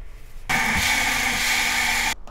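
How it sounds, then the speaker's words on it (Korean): A blender motor starts abruptly, grinding onion and pear loudly and steadily for under two seconds, then cuts off. "양파하고 배 갈으려고 믹서에. 넣고."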